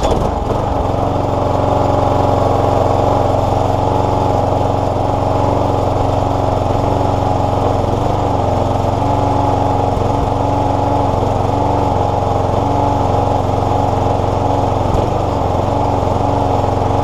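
A small gasoline engine fitted with a cheap new aftermarket carburetor starts and runs steadily, a loud continuous buzzing drone with a slightly rough idle that holds throughout, no talking.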